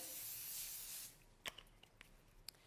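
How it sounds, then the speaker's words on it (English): Nonstick cooking spray hisses onto an aluminum foil tray in one steady burst lasting about a second, close and fairly quiet, followed by a few light taps and clicks. "we're going to take some nonstick spray onto an aluminum foil tray"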